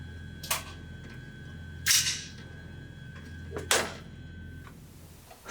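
Sharp reports from a Heckler & Koch USC rifle, the civilian version of the UMP45, fired at an outdoor range, with three loud separated shots spaced about 1.5 seconds apart over a steady background hum.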